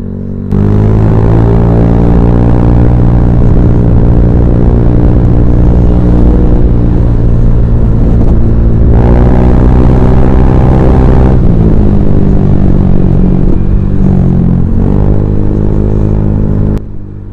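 A motorcycle fitted with a modified deep-bass bobokan exhaust revs hard and close: a loud, heavy rumble that holds, surges higher around the middle, then settles back to a throbbing idle.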